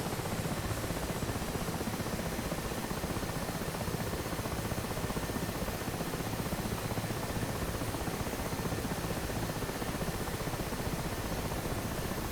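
Pucara turboprop engine howling at full power with maximum propeller pitch for the takeoff run in a flight simulator game, a dense, steady broadband roar that stays loud and constant throughout with no talk.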